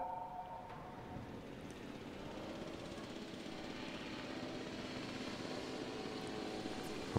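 A helicopter in the dinosaur park game Jurassic World Evolution 2 gives a steady, low rotor and engine drone, moderately loud and unbroken throughout, with no talking.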